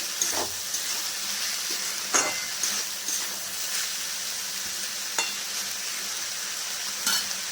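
Banana-flower dal with prawns sautés in a pan with salt, giving a soft continuous sizzle broken by occasional spoon scrapes and taps at close range.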